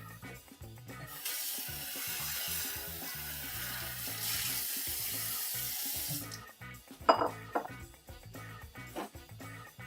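A bowl is rinsed under a running kitchen tap during cooking of a winter squash, pepper and beef stew, with a steady close rush of water for about five seconds, then clattering and splashing as the flow changes.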